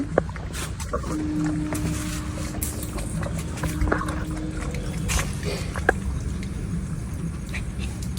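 Water flows from a freshly opened pipe outdoors, a steady broadband rush that runs continuously throughout with a few faint knocks and splashes on top, fairly close and loud.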